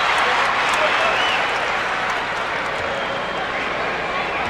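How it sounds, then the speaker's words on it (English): Sold-out basketball arena crowd at a 1993 Bulls vs Magic game applauding a departing player, a steady, loud wash of clapping and cheering filling the whole stretch. "So Pax goes out, gets a nice round of applause from this sold-out crowd."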